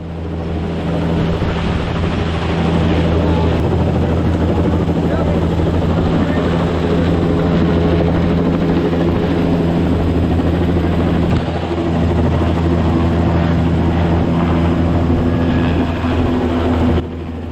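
A Bell JetRanger helicopter's loud, steady rotor and engine roar continues without a break, close and constant, as it lifts a DC-3 engine, with faint voices beneath it.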